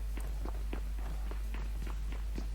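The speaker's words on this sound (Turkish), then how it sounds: "3 tane ayak sesi." Several players' footsteps in the mobile shooter PUBG Mobile fall in a steady, regular rhythm of soft thuds, moderately close, over a constant low hum with no speech.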